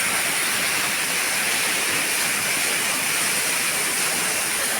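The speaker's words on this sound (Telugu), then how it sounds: "water fall" Water pours down a rocky waterfall in a steady, loud, broadband roar, close and unvarying throughout, with no voices.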